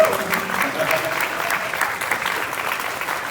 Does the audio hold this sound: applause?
yes